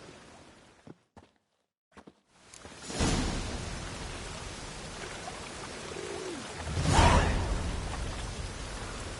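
Rain in The Witcher 3: Wild Hunt: after a few quiet seconds with soft clicks, a steady rain hiss sets in, swelling louder for a moment before settling.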